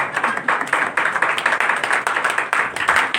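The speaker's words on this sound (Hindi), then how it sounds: "जिसके हाथ नहीं दर्द होते वो तालियां बजाए" A church congregation claps steadily, with rhythmic pulses of applause repeating about twice per second, loud and close.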